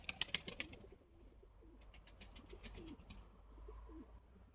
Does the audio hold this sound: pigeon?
yes